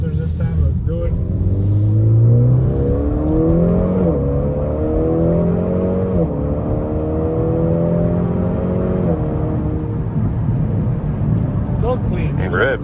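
A Honda Accord 2.0T with a Borla Type S cat-back exhaust accelerates through paddle-shifted gears, its engine note climbing in repeated rising sweeps heard from the cabin while people talk over it.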